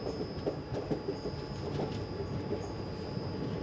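The Kanchenjunga Express (13173, Sealdah to Agartala) rumbles steadily around a curve through hill country, heard from on board as a continuous low roar with faint rhythmic wheel clatter.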